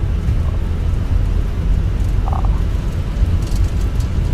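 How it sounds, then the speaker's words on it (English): A thunderstorm in the Microsoft Flight Simulator 2024 game heard from an Air India A320 cockpit: a steady, loud wash of rain and rumbling low noise that fills the whole stretch, with no talk. "There is thunderstorm today."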